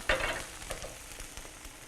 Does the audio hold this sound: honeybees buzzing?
no